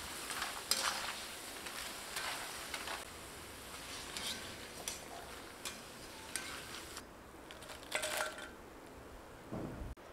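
Rice murukku vadam frying in hot oil, a soft steady sizzle with scattered crackles and the occasional clink of a utensil stirring in the pan, fairly quiet with no talking.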